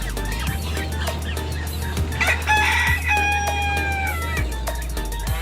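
An Onagadori chicken rooster crows loudly and close by, with hens clucking around it and a steady low hum underneath.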